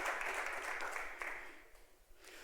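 A church congregation applauds during a Sunday service, a broad wash of steady clapping from many hands that fades somewhat toward the end.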